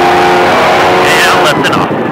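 Exotic car engine roaring loud and close while accelerating on the SpeedVegas Baja track, a sustained harsh drone with shifting pitch that eases near the end.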